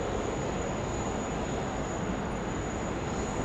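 An airplane's engines roar on a continuous, broadband rumble as it takes off from runway 16 right at Sydney Airport, steady and fairly loud throughout with no talking.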